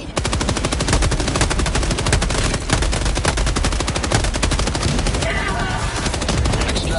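Sustained automatic gunfire from the Helldivers video game, with dense rapid bursts pounding almost nonstop at close range and loud, a few heavier shots punctuating the stream.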